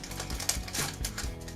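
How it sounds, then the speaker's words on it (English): Scissors cut out a paper collar pattern piece along a drawn orange line, giving a run of close, crisp snips and rustles of paper at a steady working rhythm. "I'm going to go ahead and take my scissors here"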